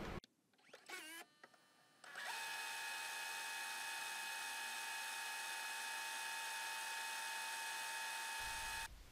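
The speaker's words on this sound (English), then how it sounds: "Okay, so that's all the drilling done for now." A few brief whirs and clicks, then a high-pitched power drill spins steadily for several seconds drilling holes in a Nissan 350Z panel before stopping abruptly.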